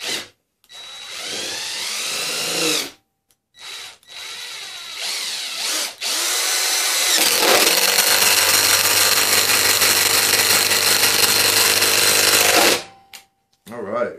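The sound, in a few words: Ridgid Gen5X impact driver driving 2.5 inch screw, speed 3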